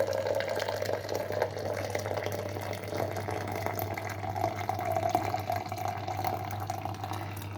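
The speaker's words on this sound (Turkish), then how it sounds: "Üzerine sıcak su ilave ediyorum." Hot water is poured into a thermos over about two teaspoons of tea in a kitchen, giving a steady, continuous running and filling sound with a constant low hum beneath it, close and moderately loud throughout.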